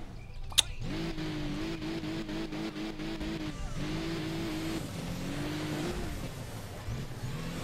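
Muscle car engine in the mobile racing game Hill Climb Racing 2, revving steadily with loud, continuous rising and falling throttle surges, brief skid-like squeals and a sharp click near the start, with no talk over it.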